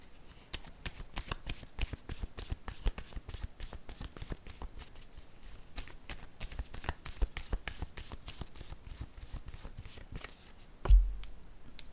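A deck of playing cards is shuffled again and again for about eleven seconds, a steady run of crisp riffling flutters close to the listener, ending in one sharper tap.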